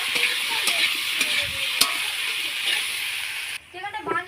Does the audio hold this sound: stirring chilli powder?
yes